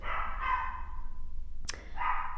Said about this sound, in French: Je sais pas pourquoi elle aboie.